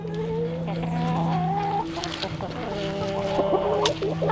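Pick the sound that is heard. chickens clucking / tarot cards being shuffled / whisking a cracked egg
chickens clucking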